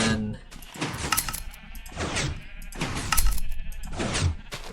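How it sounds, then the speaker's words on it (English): Sheep on a video game farm bleat several times in quick succession, each call a short wavering cry, close and fairly loud with no talking. "that should be all the sheep automatically"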